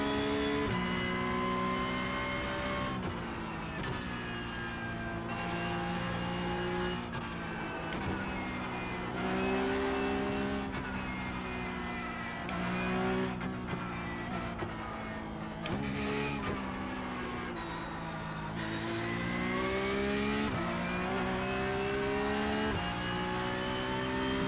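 A Porsche 911 Cup 992.2 race car in the iRacing simulator, its engine droning loud and steady with rising and falling revs through gear changes, heard alone without talk.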